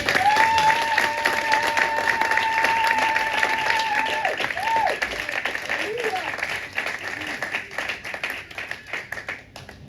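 A church congregation at a Sunday service applauding and acclaiming the Lord, sustained clapping throughout with a sung or spoken voice over it, fading slightly toward the end.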